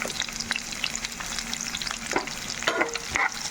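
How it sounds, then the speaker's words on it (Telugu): Onion slices hit hot oil in a pan that already holds garlic, and they sizzle and crackle steadily. Scraping stir strokes cut in close by, and nobody speaks. "ఇప్పుడు ఉల్లిపాయ ముక్కలు వేసుకుందాం."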